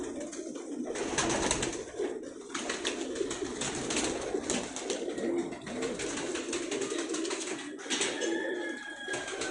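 Pakistani pigeons kept for breeding coo softly and repeatedly in a loft, their low rolling calls overlapping under a steady background hiss, with occasional faint wing or movement noises.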